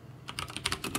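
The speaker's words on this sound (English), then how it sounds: "What is he typing in?" Rapid keystrokes on a computer keyboard, a busy run of clicky taps that grows denser and louder toward the end, close by with no talking.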